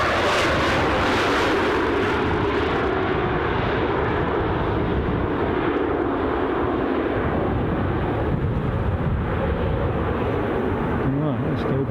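An Aegean airliner at a windy Edinburgh Airport gives a loud, steady engine roar that holds throughout, with wind buffeting and voices talking over it.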